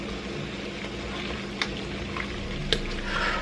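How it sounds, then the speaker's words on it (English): Water in a pot, with vinegar added for poaching eggs, is stirred into a vortex, giving a steady close swishing, bubbling wash with a couple of brief clinks. "you want to stir the water like that to create a vortex"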